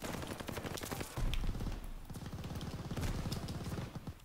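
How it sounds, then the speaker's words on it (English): A video game explosion goes off amid a fusillade of rapid gunfire, a loud boom landing near the middle of a dense, continuous barrage of shots. "Big boom right there. Big explosion boom."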